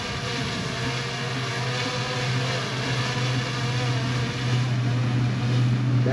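A Skyrover S1 drone hovers and flies just after takeoff, its rotors producing a steady, close, moderately loud buzzing whine with a constant pitch and no voices.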